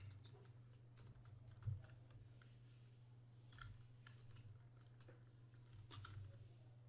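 Light, quick clicks of typing on a computer keyboard, faint and scattered over a steady low electrical hum, with no voices.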